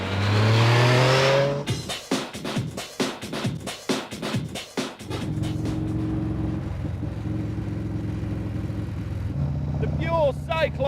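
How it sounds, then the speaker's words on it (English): A Pure Cyclone motorcycle with a 1200cc Sportster engine revs hard in a series of snarling, rapid throttle blips, then settles into a steady rumbling idle, loud and close. "It's got a graunchy, snarling beast of an engine surrounded by the bare minimum of bodywork"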